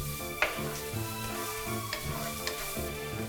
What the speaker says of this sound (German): Die frischen Gewürze anbraten.